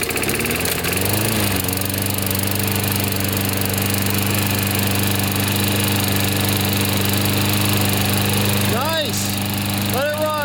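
A Briggs flat head engine on a new lawn mower roars steadily after starting, loud and close throughout, with a couple of brief pitch swells near the end.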